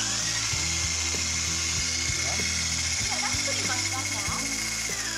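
An electric mixer whirs steadily as it whisks cake batter made with white sugar, a constant motor drone with knocking and clatter from the bowl, while people talk over it.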